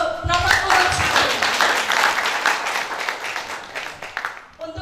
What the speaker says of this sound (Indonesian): Kita beri aplaus untuk nomor urut 1.